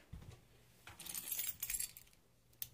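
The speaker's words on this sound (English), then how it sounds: "Just gotta grab my keys." A set of keys jangles as they are snatched up, a close metallic clinking in a few quick bursts with a brief final rattle, no voices.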